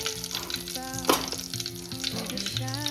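Cumin seeds and asafoetida crackling in hot oil, a loud, busy close sizzle with a sharp burst of spitting partway through, over soft background music.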